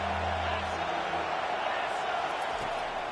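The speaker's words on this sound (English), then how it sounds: "how nice is it to have the home crowd going absolutely bananas?" Home crowd roaring in a packed college football stadium in the video game CFB 25, a steady, loud wash of cheering throughout with a commentator's voice on top.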